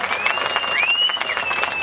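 A crowd at a Tea Party rally applauds for Tammy Bruce, dense sustained clapping filling the space, with a high whistle rising above it.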